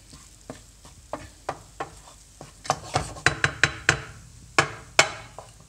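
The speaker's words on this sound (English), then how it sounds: "it around, get it mixed in. Stir it round." Spices being stirred in a pan while cooking butter chicken, with irregular scraping and knocking strokes of a utensil against the pan, sharper and louder toward the end, and a faint sizzle underneath.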